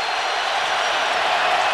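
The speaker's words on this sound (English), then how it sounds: "This crowd has been on their feet the last half hour, and they're not going to rest all day long" A huge football stadium crowd at the 2009 Iron Bowl, Alabama vs Auburn, roars in a dense, steady wash of cheering and applause, loud and continuous.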